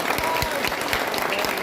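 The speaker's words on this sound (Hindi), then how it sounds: "एक बार भगवान बिरसा मुंडा के लिए भी जोरदार ताली बजाओ" A crowd at a political rally claps loudly in honour of Bhagwan Birsa Munda, a brief burst of dense, energetic applause heard close and full.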